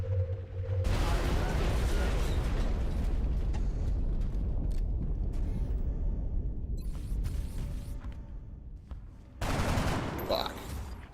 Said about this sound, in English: Go, Shredder Rocket.